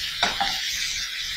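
Olives being stirred as they fry in a pan with a spoon or utensil, a couple of quick scraping strokes near the start over a soft, steady sizzle that continues alone.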